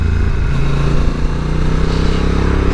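A 2022 Honda NT1100 motorcycle engine revs steadily under way, its tone stepping through quick-shifter gear changes, loud and close over rushing wind, with no talk.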